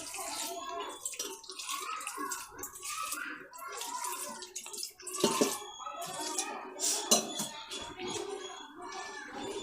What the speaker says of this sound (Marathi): आता आपण पाणी घालून घेऊ.